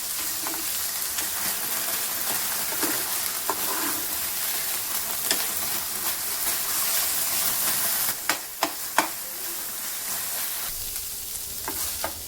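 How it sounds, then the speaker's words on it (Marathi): Mawa (khoa) roasting in a pan for gujiya, with a constant sizzling hiss and occasional scraping stirs, steady and close, ending with a few sharp clanks. "मावाचं थोडं कलर चेंज होईपर्यंत आपल्याला भाजून घ्यायचं आहे।"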